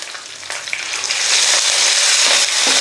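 Spices fry in oil in a pan for a pulihora tempering, the sizzle swelling from a light crackle into a loud, steady hiss with occasional stirring.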